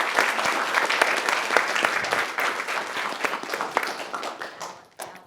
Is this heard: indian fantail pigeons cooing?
no